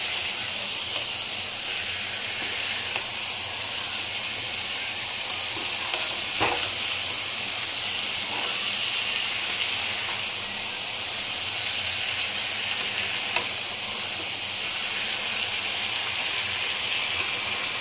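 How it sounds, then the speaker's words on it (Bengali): Small fish fry in spiced oil in a pan for a Bengali fish curry, giving a dense, loud, unbroken sizzle and hiss with occasional faint scrapes of stirring. "ছোট মাছটাকে ঢেলে দিলাম, ভালো করে মশলার সাথে মাখিয়ে নেওয়া হচ্ছে।"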